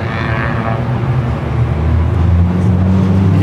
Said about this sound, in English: You can totally hear all the cars coming down right now